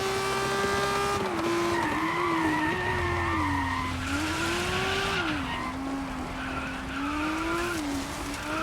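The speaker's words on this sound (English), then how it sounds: "Keep trying to pin the throttle, but I forget that I don't have traction control on. It's gonna keep spinning out on me." Car tyres in the DIRT 5 racing game spin and skid with traction control off, a steady tyre squeal riding over a continuous engine drone, loud and close throughout with no talk.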